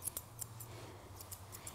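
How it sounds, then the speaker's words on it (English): Fine grooming scissors snipping the open, fine leg hair of a Bichon Frisé during a salon trim, a few quiet, crisp cuts in an irregular rhythm over a low background hum. "I'm going again with the finer scissor"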